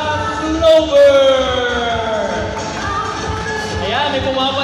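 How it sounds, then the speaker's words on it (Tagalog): Crowd at the 21st Kesong Puti Festival cheering and shouting, a continuous loud roar of many voices with excited calls rising and falling, amplified announcer talk mixed in. "Ayan, may pumapalakpak na."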